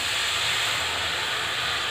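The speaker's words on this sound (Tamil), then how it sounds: "இப்போ நம்ம இந்த புளி தண்ணி இதோட சேர்த்துடலாம்." Loud, steady hiss of tamarind water hitting a hot pan of fried masala, a broad sizzling rush that holds evenly throughout without pause.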